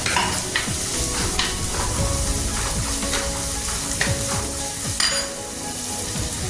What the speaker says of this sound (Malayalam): ഞാൻ ഒരു ചെറിയ രണ്ട് സവാള എടുത്തിട്ടുണ്ട് അതും കൂടെ ഒന്ന് ചേർത്ത് വഴറ്റുകയാണ്